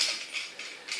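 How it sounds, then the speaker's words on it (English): A small handheld kitchen spiralizer turns with a brief whirring mechanical rasp, a few soft rhythmic ratcheting pulses close by and fairly quiet, alone without talk. "quite a good little spiralizer, this"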